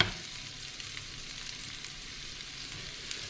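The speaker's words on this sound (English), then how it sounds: "So here now the onions are browning and cooking down a bit." Onions brown in a pan, a steady, fairly quiet sizzle with a few faint stirring ticks, continuous and close, with no one speaking.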